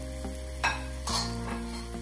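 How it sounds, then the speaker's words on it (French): Cooked onions are stirred into Thai-style beef strips frying in a pan, giving a steady loud sizzle broken by a few scraping stirs of the utensil, close and without talking, over a constant low hum. "on rajoute les oignons cuits comme on avait dit pour qu'ils cuisent avec la viande"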